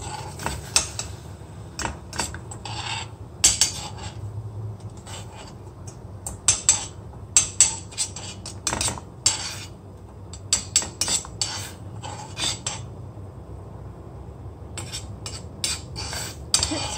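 Spoon clinks against a pot while almond milk with dissolved brown sugar, cardamom and cinnamon is stirred, giving irregular metallic taps and scrapes close by with no talking.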